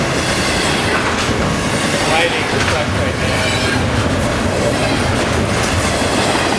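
A BNSF freight train passes close by at Victorville with a loud, continuous roar of rumbling and rail clatter throughout, while a person talks over it.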